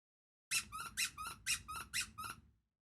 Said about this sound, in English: I still don't know where the squeaker is in this thing